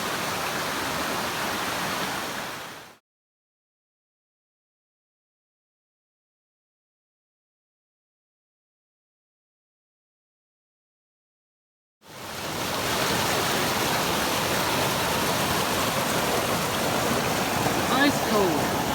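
A river flows beside the Appalachian Trail in spring, a steady broadband rush of water that fills the opening seconds, drops out entirely for about nine seconds, then returns just as loud and continuous.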